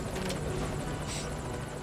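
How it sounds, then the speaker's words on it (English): A helicopter in the video game Metal Gear Solid V: Ground Zeroes thrums with a loud, close, continuous rotor chop and engine whine, steady throughout. "They're going for the chopper."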